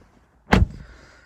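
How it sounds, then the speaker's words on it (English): A single solid thud as the door of a BMW 320d M Sport Touring estate shuts, close and crisp, followed by a short fading rumble in an otherwise quiet interior. "so I'll close the door"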